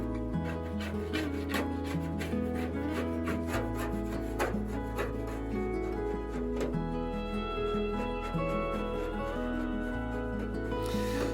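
Repeated rhythmic rasping strokes come from scraping old paint off the hull of a Grumman aluminum canoe, steady and close, over a continuous background of music.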